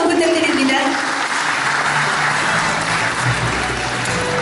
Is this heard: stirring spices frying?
no